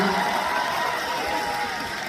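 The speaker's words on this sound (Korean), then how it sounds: "네, 박수." Cheers and applause rise from a concert audience at a Sing Again 3 show in Busan, a steady, roaring crowd sound that stays loud for the whole moment, with voices mixed into the noise.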